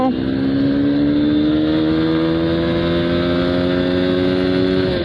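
A Honda X-Blade motorcycle accelerates in first gear, its engine a loud, close, steady drone with strong harmonic tones that hold through the whole run.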